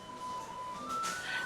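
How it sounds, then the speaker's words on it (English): A penny whistle played somewhere nearby in a home, one sustained high note that slides up a step and holds, thin and moderately faint against a quiet room. "playing the penny whistle up there"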